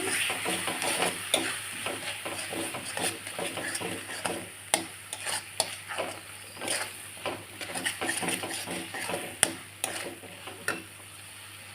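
Masala with chili powder for Bengali fish curry sizzles and fries in hot oil while a spoon scrapes and stirs it in a steady, repeated rhythm, close up.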